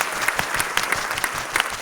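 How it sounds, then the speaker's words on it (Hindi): Audience at a Vestige business meeting breaking into strong applause, a continuous burst of many hands clapping with sharp individual claps standing out, close and lively. "एक बार जोरदार तालियां आप सभी लोगों के लिए,"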